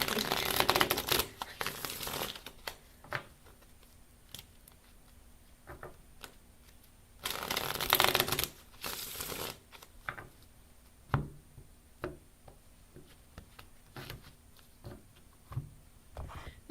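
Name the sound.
shuffling tarot cards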